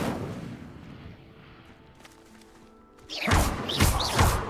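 In Hogwarts Legacy, an Incendio spell sets a stone pyre ablaze: after a quiet rumbling stretch, a sudden loud whooshing burst of flame erupts with heavy thuds and pulsing roars.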